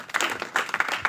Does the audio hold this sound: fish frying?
no